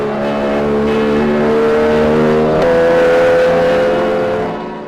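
A Jawa motorcycle engine revs steadily and loudly for about five seconds, its harmonic drone rising and shifting pitch partway through before easing off at the end, with no voices.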